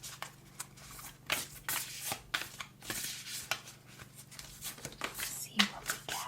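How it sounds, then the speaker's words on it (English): Tarot cards shuffled up close during a soft-spoken night skincare session, giving repeated soft rustling and flicking bursts in an uneven rhythm, with quiet speech around them. "Okay, just shuffling."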